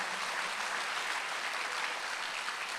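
A church congregation applauds during a Sunday worship service, a soft, even wash of clapping that holds steady throughout, heard from some distance.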